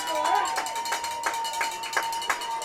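High school football crowd at a Red Devils game against Stoneham making noise, a steady wash of voices with rhythmic clapping in regular beats, heard under a commentator.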